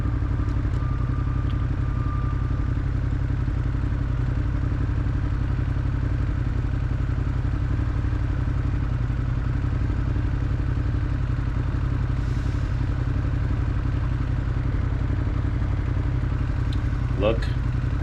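A Ducati Diavol motorcycle rides through New York City streets, its engine a steady, continuous drone and rumble throughout with road noise and faint clatter.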